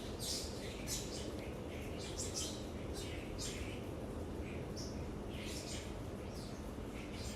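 Small birds chirp and tweet busily outdoors in a city setting, bright repeated calls scattered throughout over a steady bed of low background noise.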